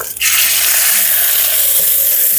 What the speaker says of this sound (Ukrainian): налила олії. Ну, небагато так, розігріла і буду класти курку